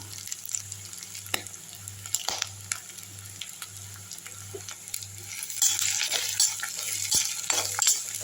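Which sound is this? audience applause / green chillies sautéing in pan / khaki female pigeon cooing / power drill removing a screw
green chillies sautéing in pan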